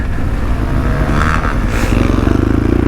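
Custom BMW 1200 GSA adventure motorcycle ridden hard off-road on a dirt fire trail, its engine roaring steadily and revving up with slipping and roosting, plus gravel clatter and scraping close by.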